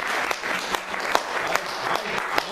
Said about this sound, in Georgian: ეს ტაში ორჯერ გაიმეორეთ